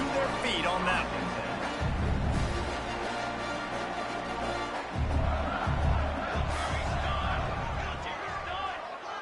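A stadium crowd roaring in a college football video game after a punt return, a loud swelling cheer with surging waves, under a commentator's continuous play-by-play talk.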